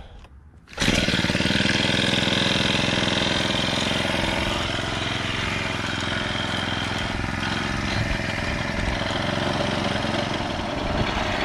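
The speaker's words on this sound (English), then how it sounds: "So let's get this thing started and see how it does." A small gasoline engine on a hybrid bicycle is pull-started: brief quiet, then it catches abruptly and runs loud and steady at a rough idle, close by.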